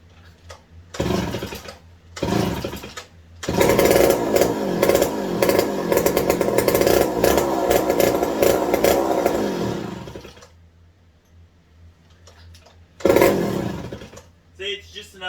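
A McCulloch 55 gear drive chainsaw, undergoing a revival with handle and oiler repairs, sputters in two short bursts, then runs loud and steady for about seven seconds before dying, followed by one more brief burst.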